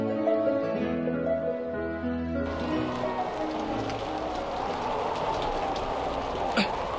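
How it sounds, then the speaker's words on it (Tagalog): Heavy rain pours down in a dense, steady hiss that takes over after a few seconds of tonal music. "Sa pagkabaskog sa ulan,"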